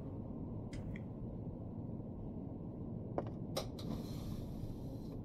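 The driver's door of a bus in Bus Simulator 18 gives a few faint mechanical creaks and clicks, including a quick double clack, over a constant low engine hum.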